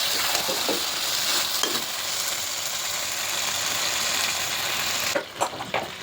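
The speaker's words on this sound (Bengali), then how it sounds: "আলুর দম কিন্তু কষা চলছে এখনো পর্যন্ত" Small potatoes fry in oil for aloo dum with a loud, continuous, close sizzle, ending in a few stirring scrapes as the hiss briefly drops.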